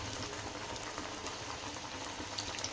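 Chana dal masala vada frying in hot oil, a steady close bubbling sizzle with no talking.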